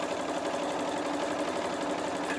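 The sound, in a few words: sewing machine stitching binding on a place mat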